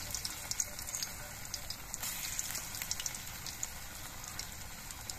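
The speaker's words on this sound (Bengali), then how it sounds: "এই একইভাবে আমি সবগুলো পকোড়া ভেজে নেব।" Drumstick flower pakoras fry in hot oil, giving a steady, even hiss and fizz of crackling bubbles that stays constant throughout, close and moderately quiet, with no voices.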